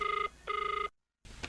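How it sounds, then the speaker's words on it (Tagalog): A cellphone rings in a radio drama, two bursts of an electronic warbling ring separated by a short gap, then a brief silence and a faint fragment of sound afterward. "Barang no agring ti cellphone na."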